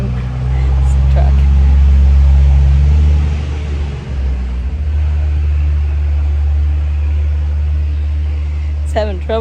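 A Jeep engine labors with a heavy, loud low drone that swells and then eases while climbing a hill at a riverside campsite, with faint voices over it.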